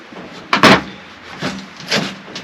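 Crud being knocked off a plastic pipe fitting while a chicken feeder is built: one sharp knock followed by two softer taps, close and alone without speech.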